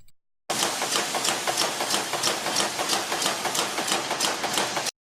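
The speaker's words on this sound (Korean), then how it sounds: "지금 보여드리는 기계 영상은 5대째 컷네일이라고 하는 못을 만드는 공장입니다" A cut nail making machine in a factory runs at full speed, a loud, fast, regular mechanical clatter of stamping and cutting strokes that starts abruptly and stops abruptly.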